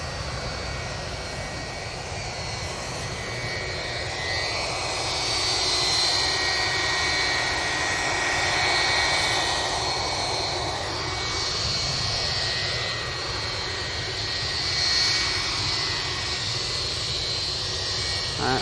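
A jet airliner at Manchester Airport roars steadily from mid-distance, its broad engine rumble swelling and easing with a high whine threaded through, alone with no talk.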